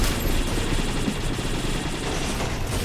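Rapid gunfire from a gun in the video game Sephiria, a dense continuous rattle of overlapping shots with no clear gaps, loud and sustained throughout.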